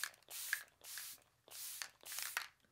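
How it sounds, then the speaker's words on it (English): An e.l.f. makeup setting spray mists close to the mic in four hissing bursts, each about half a second long, with short pauses between them and no talk over them. "So I'm gonna spray this all over."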